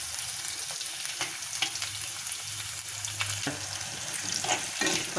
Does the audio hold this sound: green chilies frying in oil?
yes